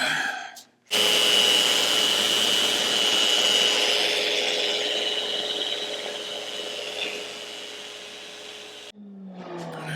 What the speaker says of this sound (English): That'll be the last grit that I'll use with the random orbital.